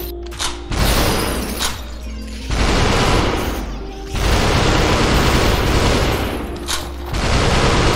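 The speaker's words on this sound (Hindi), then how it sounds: "ये शॉटगन मारता नहीं, बड़ा गंदा है यार" Shotgun fire in the VR game SUPERHOT, with loud booming blasts arriving in several bursts, each lasting one to two seconds and separated by short quieter gaps, close and heavy.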